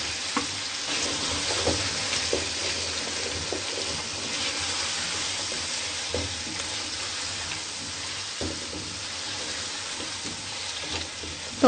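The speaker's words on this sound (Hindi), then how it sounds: "तो 2 मिनट हम इसको इस तरीके से भूनेंगे।" Diced potatoes fry with softened tomatoes in a masala for bathua and aloo sabzi, giving a steady, close sizzle broken by light stirring scrapes and clicks.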